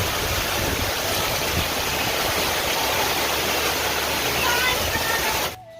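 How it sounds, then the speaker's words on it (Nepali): Heavy rain pours outdoors in Gayakot, a loud, steady, dense hiss filling the whole scene that cuts off abruptly just before the end. "पानी चाहिँ तगडा छ"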